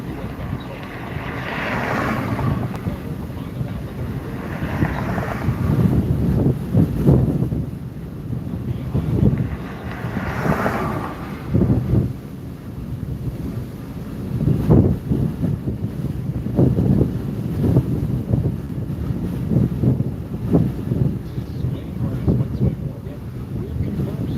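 Strong gusty wind buffets the microphone during a storm chase amid a tornado outbreak in Iowa, a constant rumbling roar with surging gusts, while voices talk underneath.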